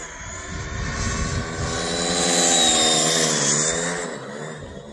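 An 8s-powered Traxxas Sledge RC car with a damaged tire races past with a high, whining motor, swelling louder as it nears mid-pass and fading away, with a steady buzzing rasp from the tire.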